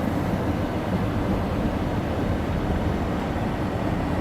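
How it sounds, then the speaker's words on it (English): A car drives onto a car-carrying train in Switzerland, a loud, constant low rumble and roar heard from inside the vehicle, with no distinct breaks. "Driving onto a train."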